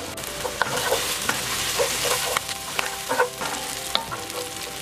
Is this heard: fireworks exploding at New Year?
no